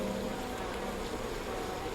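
Bees buzz in the video game We Happy Few, a steady, dense drone that hums continuously and fairly close throughout.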